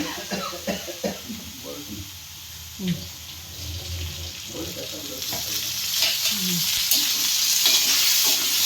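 Chutney ingredients with onion and coriander fry in oil in a home kitchen pan while being stirred, giving a steady sizzle with scraping stir sounds throughout, and a person speaks over the cooking.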